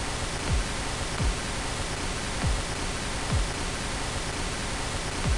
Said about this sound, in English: listen for the kick against the pink noise